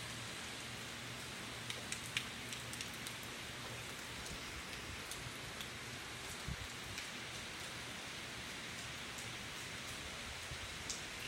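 Heavy early-morning rain from Hurricane Michael pours steadily outdoors, a dense continuous hiss with scattered sharper drops, no talking.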